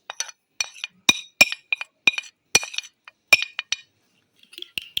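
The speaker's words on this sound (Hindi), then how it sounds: "अंडे को बीट करके खूब अच्छे से।" Egg being beaten in a bowl for a homemade chicken patty burger, with a quick run of sharp clinking taps of a utensil against the bowl, close and fairly loud, ending in a few softer knocks.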